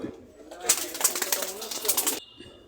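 High flying pigeons at a loft coo in low rolling calls, close by, mixed with a brief burst of brighter rustling or flapping in the middle and someone talking over them.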